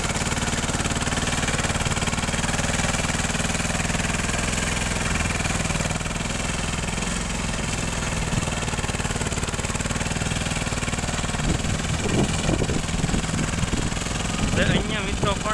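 Steel Trac tractor engine running at about 2500 RPM while plowing a field, a steady loud droning rumble throughout with bursts of mechanical knocking near the end.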